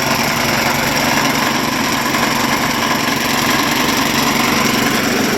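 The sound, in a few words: lawnmower engine generator running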